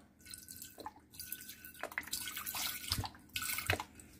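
Liquid smoke poured from a bottle into a barbecue marinade for king oyster mushroom ribs: close, splashy glugging pours in several uneven bursts with brief pauses.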